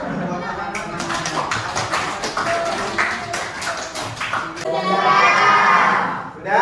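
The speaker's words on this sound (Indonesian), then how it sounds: "Kita beri aplaus untuk dua teman-teman." Classroom applause for students who have just presented, a mix of claps and children's voices from a crowd of pupils, building louder near the end, with talking mixed in.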